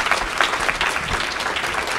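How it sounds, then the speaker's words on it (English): Audience applause at the close of a public health panel session, a steady burst of clapping from a seated crowd lasting a couple of seconds, with no voices over it. "A round of applause for our panelists"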